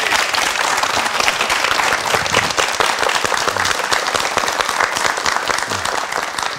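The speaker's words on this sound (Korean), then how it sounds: "박수로 맞이해 주시기 바랍니다." A studio audience on a Korean morning television talk show applauds to welcome a guest speaker, a dense, steady round of clapping that holds at full strength throughout without pause.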